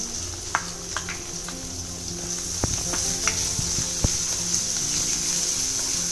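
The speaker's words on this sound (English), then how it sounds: "Let the onions fry about" Onions frying in a pan after a pinch of asafoetida, a steady low sizzle with occasional soft clicks and taps of stirring, fairly close.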